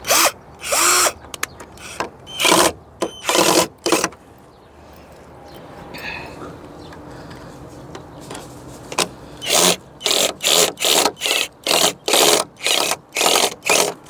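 A portable power drill bores into hard wood in repeated loud bursts of about half a second to a second, with a quieter stretch of scraping and handling in the middle before a rapid run of short drilling pulses.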